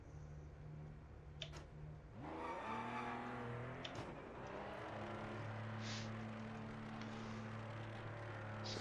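A race car in the Project Motor Racing video game accelerates and shifts through gears, its engine note rising and falling and then holding a steady drone, with a faint ticking in the background.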